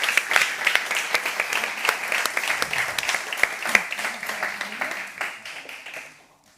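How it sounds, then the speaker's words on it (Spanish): Audience applause for the panelists at the close of a conference session on impact finance, with dense steady clapping from a room of people that carries for several seconds, then fades out. "Les agradecería si verdaderamente se unen dando un aplauso aquí a los panelistas."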